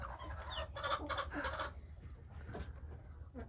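A hen clucking in a nesting box set inside a brooder, a run of close, fairly loud clucks and calls in the first half that thin out into quieter murmurs afterward, with no talk.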